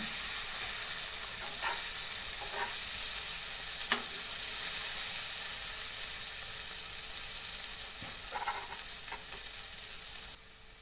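Eggs sizzle in a pan while being cooked for an egg gravy, a steady hiss and crackle with a few sharp taps and scrapes of stirring, close up and with no voices.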